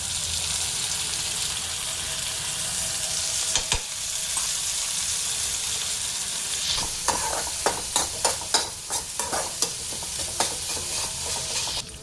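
Chilli paneer is stir-fried with soy sauce in a pan over full gas, a steady loud sizzle with a run of rhythmic scraping stir strokes in the second half.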